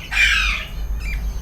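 A single loud, harsh squawk from a pet parrot kept with Hagoromo budgies and ringneck breeder pairs, close by, followed by a fainter shorter call over a low background hum.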